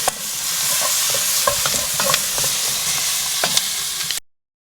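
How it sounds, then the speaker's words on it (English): Tomato paste and garlic being stirred in a hot pan over a fire, a steady loud sizzle with scraping spoon strokes throughout, no voices. "Okay, so we're just going to add 2 tablespoons of tomato paste. Give that a good mix up."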